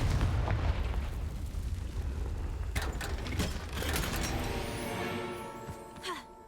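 A fire spell explosion in a Hogwarts video game: a heavy, booming blast rolls and rumbles, then fades into a tonal magical ring and crackling debris near the end.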